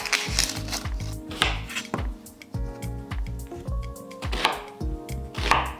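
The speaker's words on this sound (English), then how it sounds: "Now let's do and cut our vegetables. Let's cut our onions." A knife chops onions on a board for a Korean hotpot: quick, steady, close-up taps in bursts, with a faint tonal hum running underneath.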